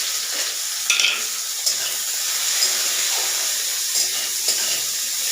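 Onion fries in hot oil with panch phoron and dried red chillies in a kadai, hissing loudly and steadily up close. A stirring spoon scrapes and knocks against the metal every so often.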